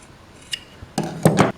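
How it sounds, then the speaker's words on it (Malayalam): Scissors snip cotton baby frock fabric at the armhole join, a few quick close crisp cuts in succession after a faint earlier tick. "ഈ ആം ഹോളിൻ്റെ ഈ ജോയിൻ ചെയ്യുന്ന ആ ഭാഗം ഒന്ന് കട്ട് ചെയ്ത് കൊടുക്കാം."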